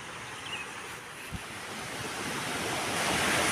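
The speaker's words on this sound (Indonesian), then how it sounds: "aliran sungainya udah terdengar banget dari sini teman" River Situhiang at a riverside camping ground rushes in a steady, broadband wash that swells slightly louder toward the end, with no voices.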